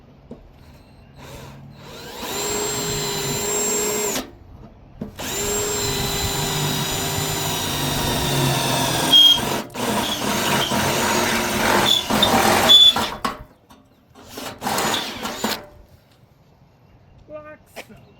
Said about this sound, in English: I'll just drill it out with one drill bit.